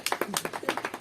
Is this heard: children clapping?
yes